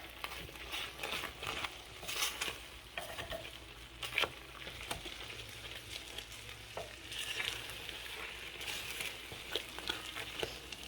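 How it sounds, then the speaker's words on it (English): A spoon works through a pot of thick apple butter slow-cooked overnight, making soft, sticky, squelching stirring sounds with faint clinks against the pot, quiet and close. "Just gonna give it a stir."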